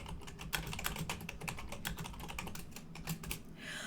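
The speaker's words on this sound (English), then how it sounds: "I'll type that in text." Rapid, irregular keystrokes clatter on a computer keyboard, close and fairly quiet, with a brief pause near the end and no voices.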